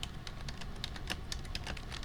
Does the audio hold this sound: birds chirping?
no